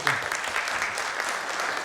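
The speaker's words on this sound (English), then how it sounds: "May I have a big round of applause" Audience applause at a real estate leaders' conclave and awards ceremony in India, a steady, dense burst of clapping filling the hall from start to finish with no pauses.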